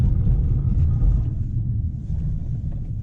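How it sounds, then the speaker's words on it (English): A 2016 Mercedes C180 braking hard from about 60 km/h on a damp road, heard from inside as a loud low rumble of road and tyre noise that eases slightly partway through, with no talking. "I was going about 65 kph and I was able to mash the brakes"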